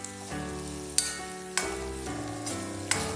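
Long-sliced garlic, ginger and green chillies sizzle steadily in a hot pan while being stirred for a Thrissur-style duck roast, with the spatula knocking or scraping sharply every half second or so.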